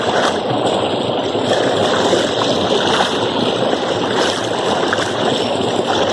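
Muddy rubber paddy long boots being rinsed in water, a steady, continuous splashing and rushing wash that stays loud and close throughout, with no talk.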